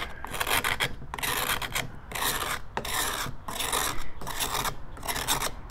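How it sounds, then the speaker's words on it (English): Curved-blade grapefruit knife scraping the inside of a beekeeping bee smoker, a loud, close, rasping scrape repeated in steady strokes about once a second, with no talking. "you can take the grapefruit knife and you can scrape and scrape"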